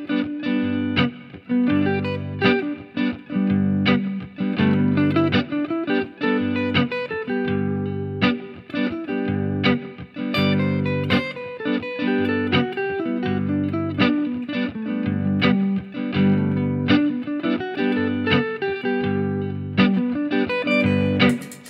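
Electric guitar soloing with distortion and effects, mixing chord tones, pentatonic and diatonic notes in a steady stream of picked notes and short phrases, loud and sustained with no voice.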